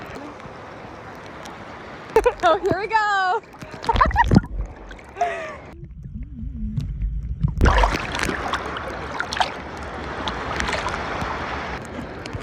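A small boat near a beach is bounced by choppy water, with splashes and hull slaps surging in bursts, a quieter lull midway, then a broad rushing wash; voices chatter and exclaim throughout.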